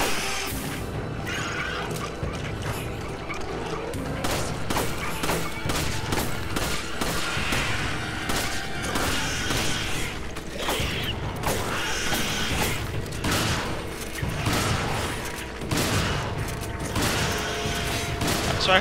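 Shotgun fire in Resident Evil 5, repeated heavy blasts punctuating a dense, continuous bed of game noise and creaking mechanisms, loud and close throughout.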